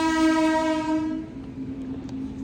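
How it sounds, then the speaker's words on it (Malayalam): A passing train sounds a long, loud horn that fades after about a second into a lower lingering tone over a faint rolling rumble. "ഇതാണ് നമ്മൾ ഇത്ര സമയം നേരത്തെ വന്ന ട്രെയിൻ അല്ലാതെ വേറെ ട്രെയിൻ."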